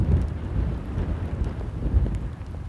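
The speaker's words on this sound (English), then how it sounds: "For sure is rainy at the moment." Steady rain falls at Amsterdam Airport near the Polderbaan runway, a dense continuous hiss with low rumbling wind noise against the microphone throughout, loud and without talk.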